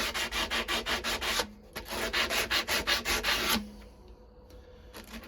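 A knife blade is hand-sanded with 120 grit paper in steady, rhythmic back-and-forth strokes, close and fairly loud, pausing briefly, then fading to faint scraping near the end.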